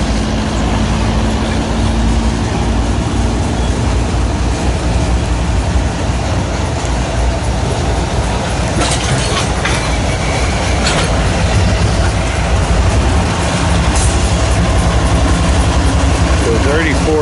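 A freight train carrying cryo-trans cars rolls past Woodbourne station, a loud, close, continuous rumble of wagons with clickety-clack wheel noise and a droning engine throughout.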